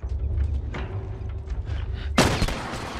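Gunfire from The Last of Us video game: a low rumbling background with soft thumps, then one sharp, loud shot near the end that rings out briefly.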